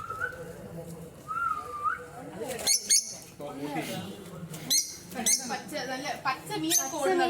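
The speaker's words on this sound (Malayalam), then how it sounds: "ആ കിളികളൊക്കെ ചിലക്കുന്ന ശബ്ദം കേട്ടാണ് അവരെന്ത് ഉണരുന്നത്." Birds chirp and whistle in short calls while a person talks over them, the birdsong clearest in the gaps between speech.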